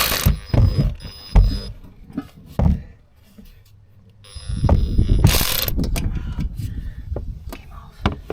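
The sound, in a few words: cordless ratchet working on a truck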